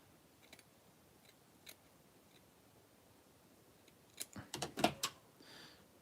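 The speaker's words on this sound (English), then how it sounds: "you cut out some smaller circles" Scissors snip a small circle out of fabric, with faint scattered clicks at first and then a quick burst of several close, crisp cuts near the end, heard alone in a quiet room.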